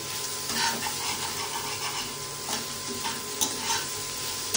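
Bhindi cooked with egg, stirred in a hot pan: a continuous frying hiss with soft, irregular scrapes and taps of a spoon against the pan, heard up close with no voices.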